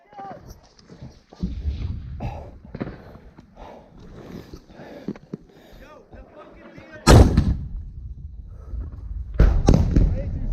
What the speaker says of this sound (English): Hey, rocket, rocket.